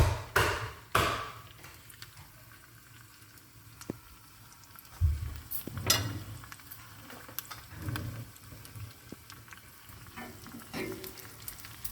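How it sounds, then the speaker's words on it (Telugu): Dal tempering fries in a pan, a steady soft sizzle broken by several sharper clattering stirs and scrapes spread through the clip, close by, with no talk. "ఇది బాగా వేగాక తాలింపులో ఈ పప్పులో వేసేయాలండి."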